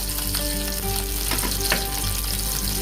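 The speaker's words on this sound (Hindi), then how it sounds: "अभी मेरा जो प्याज मैंने काटा था उसको मैं थोड़ा सा फ्राई कर लूंगी।" Chopped onion frying in oil in a kadhai gives a dense, steady sizzle with a few stirring scrapes, loud and close, with a low hum beneath.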